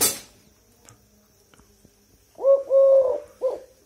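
A tame Eurasian collared dove coos close by after a few quiet seconds, giving a three-part call with a longer middle note, clear and fairly loud against faint background.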